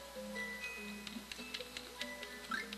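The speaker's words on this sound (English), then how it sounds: "And there goes the cuckoo clock." Cuckoo clock in the Banjo-Kazooie video game ticking in a steady, evenly spaced rhythm over soft background game music, moderately quiet and without voices.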